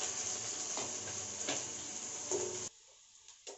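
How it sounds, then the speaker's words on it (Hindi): Garlic and green chili hiss steadily as they are stir-fried in a pan, a soft continuous sizzle with faint stirring ticks that cuts off abruptly near the end, leaving near-quiet. "चलाते हुए मैं इसको भून लूंगी।"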